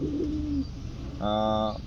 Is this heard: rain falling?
no